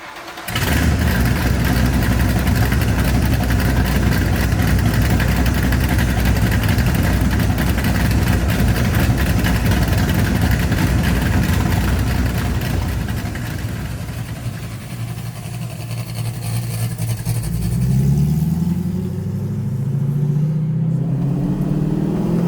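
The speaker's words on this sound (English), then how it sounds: "so that you guys can hear and feel the power of this Mustang" A 1965 Mustang Fastback with a 347 stroker engine and Tremec 5-speed starts and runs loud and close, a deep rumbling idle that holds steady before revving and settling toward the end.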